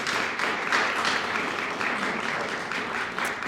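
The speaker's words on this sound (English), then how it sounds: "Please give him a round of applause." An audience at a city government event applauds two state officials with a dense, steady wash of clapping that holds evenly from start to finish.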